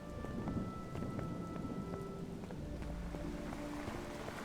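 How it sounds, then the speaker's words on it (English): Steady rain pours down in the game Adam's Venture: Origins, a dense, loud, even hiss of drops with faint tonal background music underneath and no talking. "we're going outside into the rain"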